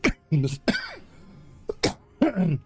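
A few sharp coughs and throat-clearing bursts scattered between short stretches of talking, close to the mic.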